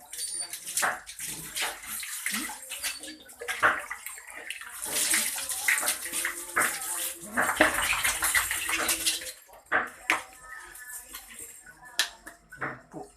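Water splashes and pours intermittently during a child's bath, with clattering and handling noises, plus some overlapping voices.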